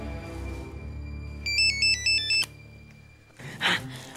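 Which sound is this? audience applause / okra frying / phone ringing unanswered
phone ringing unanswered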